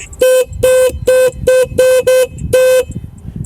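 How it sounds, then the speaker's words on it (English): A loud electric go-kart horn honks seven times in quick succession, uneven short blasts with one longer final toot, close by. "not only front lights, but it has a car horn"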